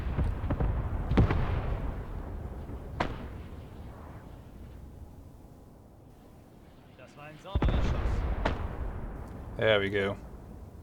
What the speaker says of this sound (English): my 5cm mortar battery has acquired the enemy, and they are starting to bombard them